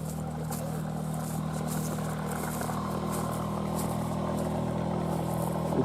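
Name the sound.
motorboat engine on river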